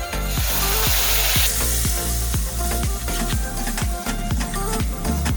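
Curry leaves, cumin, mustard seeds, turmeric and asafoetida crackle loudly as they hit hot oil for a chutney tempering, a steady close sizzle running over a rhythmic thumping beat of background music.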